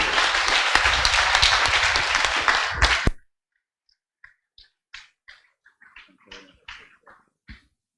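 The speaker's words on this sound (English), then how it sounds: "Can you give Rob a massive round of applause?" An audience at an essential tremor open day gives a speaker a round of applause: about three seconds of dense, loud clapping that stops abruptly, followed by faint scattered knocks and small noises in near silence.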